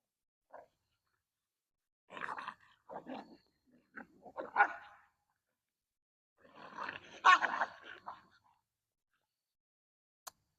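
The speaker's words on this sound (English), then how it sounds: "My dogs are fighting." Several bursts of snarling, growling dog noise with short yelps, coming in scattered clusters separated by brief pauses, fairly close.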